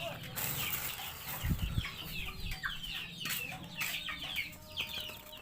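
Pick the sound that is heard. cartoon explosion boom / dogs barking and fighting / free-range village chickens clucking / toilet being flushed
free-range village chickens clucking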